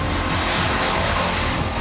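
Petrol-engined car roaring hard off the line at a race start against a BMW 535d diesel, a loud, steady, dense engine and wind roar filling the whole stretch.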